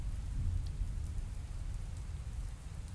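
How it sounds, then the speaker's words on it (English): Steady rain pours down in a dense, even patter, with a low, distant thunder rumble beneath it. "Soon rain is falling everywhere,"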